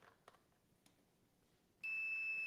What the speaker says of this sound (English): we're getting the squeal from the meter telling us we have continuity